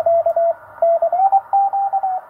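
Loud keyed tones on an amateur radio, typical of Morse signals, received on the 20 m band through a three-element parasitic vertical antenna array, in short and long beeps with brief gaps, alone and clear.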